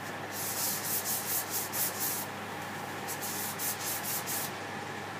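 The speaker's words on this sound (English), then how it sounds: "you have got a great hand contour sander to remove any of those little bits" A Sandi Hands hand contour sander with a foam backing pad scrubs back and forth in quick, rhythmic rasping strokes, close and steady over a constant hiss, with a brief pause midway and no talk.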